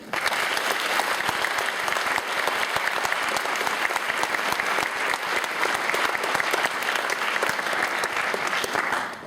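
A large audience in a hall claps steadily to welcome two guests onto a stage, a dense, even wall of applause that holds at full strength for about nine seconds and then begins to thin.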